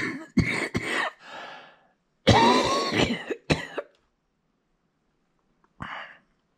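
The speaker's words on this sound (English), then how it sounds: "Been doing a lot of coughing the last couple of days." A person coughs in several harsh bursts, close up, with a short pause and then one more cough near the end.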